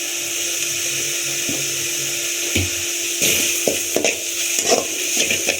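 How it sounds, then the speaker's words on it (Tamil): Tomatoes with salt being stirred in a frying pan for country chicken curry, a low sizzle under repeated sharp scrapes and knocks of the spoon that grow busier toward the end, no talking. "இப்போ எடுத்து வச்ச தக்காளியை போட்டு கொஞ்சம் தூள் உப்பு போட்டு கிளறி விடுங்க"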